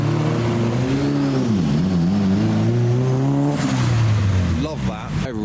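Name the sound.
tuner car driving past at a wet car show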